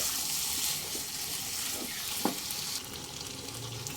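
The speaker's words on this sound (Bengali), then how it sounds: "মিডিয়াম ফ্লেমে চার থেকে পাঁচ মিনিট একটু কষিয়ে নেব" Chicken haleem masala sautéing in a pan over a medium flame gives a steady, close hiss of frying, with a few faint stirring clinks and scrapes and no talking.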